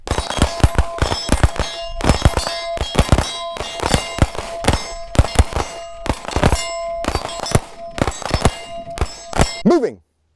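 Rapid gunshots ring out during a shooting-on-the-move drill, sharp close reports in quick pairs and bursts repeated over about ten seconds, with metallic ringing between shots and an abrupt end.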